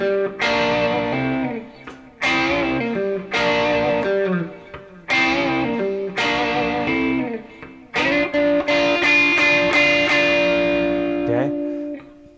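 Distorted electric guitar plays a rock lick using minor pentatonic double stops: four repeated phrases, then a longer sustained one ringing out, loud and close with no talk.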